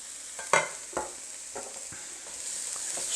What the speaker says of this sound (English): And we're just going to throw them in the pan for